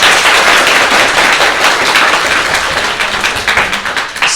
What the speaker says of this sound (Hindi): तालियां हो इनके लिए।